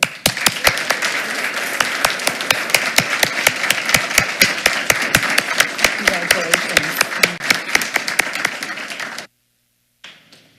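A school board meeting audience applauds a teacher receiving an award, many hands clapping in a brisk, fairly close burst for about nine seconds before it stops abruptly into near silence.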